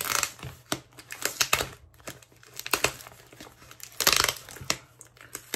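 Heavy packing tape is ripped and peeled off a parcel during an unboxing, irregular loud crackling tears and crinkling bursts close by, separated by brief quieter pauses.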